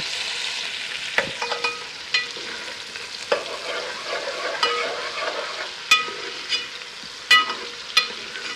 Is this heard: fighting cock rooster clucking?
no